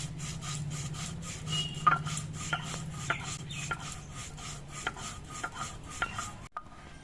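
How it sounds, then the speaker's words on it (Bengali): Radhuni spice is ground into paste on a grinding stone, heard as close, rhythmic scraping strokes repeating back and forth at a steady pace before stopping abruptly. "এবার অল্প একটু আমি রাঁধুনি বেটে নেব"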